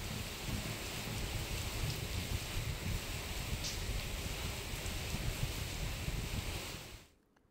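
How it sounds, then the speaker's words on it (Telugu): Heavy rain falls in Medak district, Telangana, as a dense, loud, continuous hiss that holds steady before cutting off abruptly near the end, with no voices. "మళ్లీ వర్షం కురవడంతో ప్రజలు తీవ్రమైన ఇబ్బందులు ఎదుర్కొంటున్నారు"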